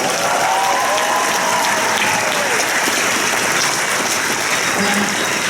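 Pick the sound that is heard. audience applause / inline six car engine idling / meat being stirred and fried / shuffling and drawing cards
audience applause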